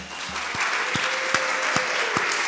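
An audience applauds students at a university awards ceremony, steady clapping with a few sharper individual claps standing out, moderately loud and continuous.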